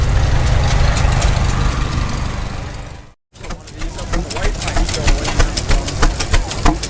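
A large twin-cylinder Rumely tractor engine idles close by at a pioneer days show, with a slow, heavy chuffing beat, briefly cut out then resuming its steady rhythmic thump.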